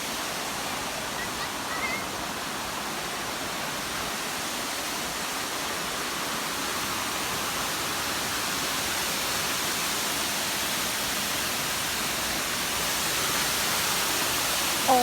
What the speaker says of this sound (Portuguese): O nome dessa cachoeira é Cachoeira Erva Doce.